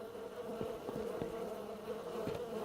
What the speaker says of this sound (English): Why are there bees over here?